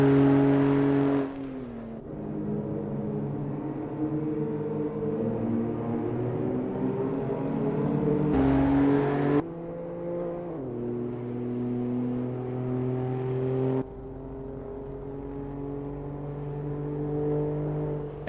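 Citroen C1 race car engines in Assetto Corsa sim racing at Oulton Park, a steady droning whine that rises and falls through gear changes, with sudden cuts and shifts as the view switches between cars.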